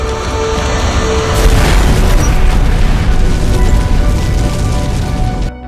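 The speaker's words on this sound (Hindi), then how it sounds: "बॉब ने तेल के टैंकर पर एक गोली चलाई और हेलीकॉप्टर हवा में उड़ गया।" A loud movie explosion as a shot hits an oil tanker and a helicopter is blown up, with a sudden heavy boom followed by a sustained roaring, crackling blast that cuts off abruptly.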